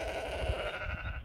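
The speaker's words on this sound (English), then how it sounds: "with the sheep screaming" Sheep bleat in an apple orchard in spring, a single drawn-out cry that carries continuously from fairly close by with no other voices.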